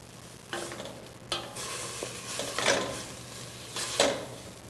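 White wine bubbles and reduces in a pan over softened, translucent sautéed vegetables, giving a steady close sizzle with a few louder stirring scrapes and no voices.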